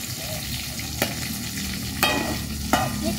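Pre-braised, spiced chicken pieces fry in a pan with a steady, close hiss of sizzling oil, broken by a few sharp utensil clacks as the pieces are stirred.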